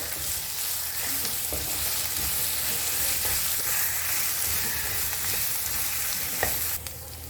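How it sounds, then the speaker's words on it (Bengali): Banana blossom cutlet mixture fries and is stirred in a pan, a steady close sizzle with scraping stirs and a couple of sharper clinks near the end. "এবার এটাকে ভাজতে থাকবো।"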